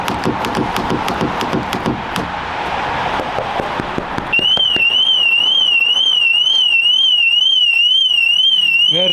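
A car alarm sounds loud and close, its warbling siren tone cycling steadily after a noisy stretch of street and handling sounds in the first few seconds.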